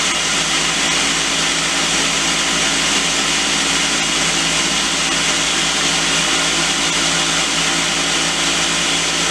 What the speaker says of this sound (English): You want to blend it until it's smooth.